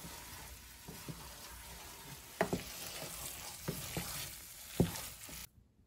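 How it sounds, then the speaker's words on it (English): Enchilada filling with Cholula hot sauce sizzles softly in a pan as a utensil stirs it, with a few sharp scrapes and taps over the low frying hiss before a sudden stop. "So we're gonna add a bit and then just stir it up."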